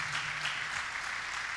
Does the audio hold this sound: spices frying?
no